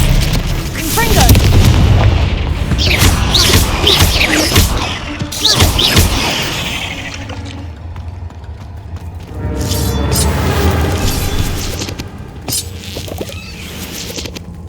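Spell explosions from Hogwarts Legacy on Xbox Series S go off as a rapid string of heavy booms and crashing blasts, loud and close, easing briefly before another burst of impacts.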